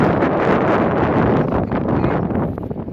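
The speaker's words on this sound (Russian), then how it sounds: "Ветер моментами прям задувает." Steady wind blows hard across the microphone on a mountain at Too-Ashuu, Kyrgyzstan, a continuous broadband rush with slight gusting and no voices.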